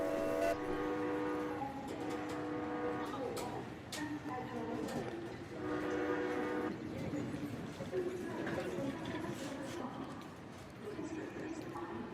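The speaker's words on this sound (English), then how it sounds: "I got some of these train sounds" Repeated train whistle blasts with harmonic tones sound over a steady rumbling rail noise, loud and continuous throughout.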